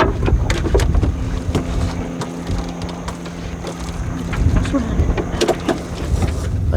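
A sailboat tacks in strong wind, with heavy wind buffeting, rushing water and clunks of rigging and wood throughout, and voices faintly present.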